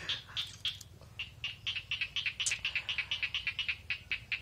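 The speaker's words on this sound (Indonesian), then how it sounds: "suara nyanyian kodok." Frogs croak in the evening in a rapid series of short, high, chirping pulses, quiet and fairly close, repeating in an irregular rhythm over a faint low hum.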